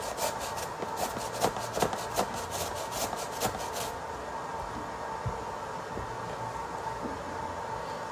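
Green papaya being grated by hand for atchara pickle, a steady rasping scrape of firm fruit against the grater, repeated strokes close up with no talking.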